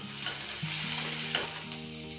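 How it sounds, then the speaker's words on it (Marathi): Chopped onion sautéing in hot oil for a fish curry gives a close, continuous sizzle with stirring scrapes throughout and no voices. "तेल गरम झाल्यावर यात आपल्याला टाकायचं आहे जो आपण कांदा चिरून घेतला होता तो टाकायचा आहे आणि कांदा मऊ होईपर्यंत आपल्याला परतून घ्यायचा आहे."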